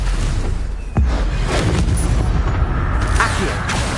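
Stupefy spell impact in the video game Hogwarts Legacy on hard difficulty: a single sharp booming hit near the one-second mark, followed by dense rumbling game sound and softer later impacts.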